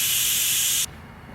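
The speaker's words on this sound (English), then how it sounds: "I like doing it this way by putting seafoam through the injector." Seafoam cleaner sprays through a fuel injector from a Toyota 22RE engine in one loud, steady hiss lasting under a second, then cuts off sharply into quiet room tone.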